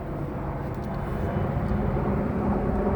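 Aircraft engine droning steadily overhead, a continuous low rumble that holds at a fairly loud level throughout with no other sounds on top.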